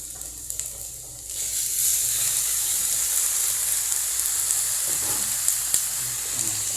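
Tomatoes hitting a hot pan set off a sudden swell of bright sizzling that holds loud and steady, with faint clinks and a stir near the end.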